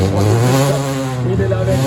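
Jérôme Frey's class 3 Peugeot 206 race car on the start line of a hill climb, its engine droning loud and close with steady, rising harmonics while a commentator speaks over it.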